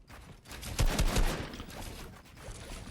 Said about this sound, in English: Some shotgun shots coming in